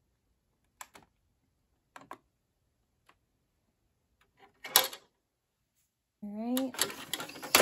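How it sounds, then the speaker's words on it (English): An Epson EcoTank printer being switched off, with a few faint isolated clicks and a brief clunk, followed by a short whirring mechanical sound, close by; a voice speaks briefly. "And I am going to turn off my printer."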